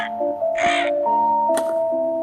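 A bird enemy in a video game caws in a couple of short bursts over a steady electronic game tone with layered chime-like notes, all close and clear.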